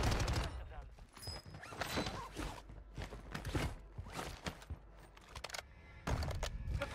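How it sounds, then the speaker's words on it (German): Gunfire in the video game Warzone 2 with an SMG: dense bursts of shots and rattling action crackle continuously under background game noise, steady and fairly loud throughout. "Dann ihm ein paar Schüsse geben."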